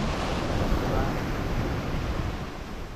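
Strong surf washes up a sandy beach in a steady, loud, roaring wash of water, with wind buffeting throughout and no pause.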